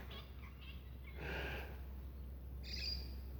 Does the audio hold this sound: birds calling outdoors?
yes